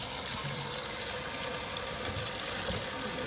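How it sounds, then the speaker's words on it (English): Cool tap water runs steadily into a kitchen strainer set in the sink for washing peppers, a continuous close, even rushing and splashing that holds for the whole stretch with no voices. "Okay, I'm going to put my strainer here, run my cool water."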